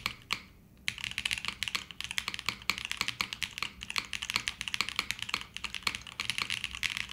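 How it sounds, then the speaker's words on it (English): Typing on a clacky Chimera65 R2 mechanical keyboard with ABS keycaps and an FM4 plate, a close, steady stream of sharp clicking keystrokes after a brief pause near the start, with no talking. "I'd say this is more of a clacky keyboard."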